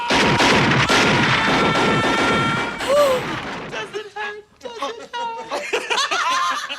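Shotgun fire from the 1987 film RoboCop: loud, dense blasts in rapid succession crowd the first seconds, then give way to sparser sharp reports mixed with voices and chuckling.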